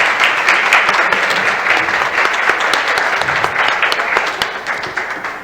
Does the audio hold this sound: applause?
yes